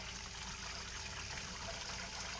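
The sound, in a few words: water trickling during fly sparging for all-grain homebrew IPA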